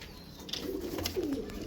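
A brief pigeon coo, a short low warbling call up close, with faint flutters around it.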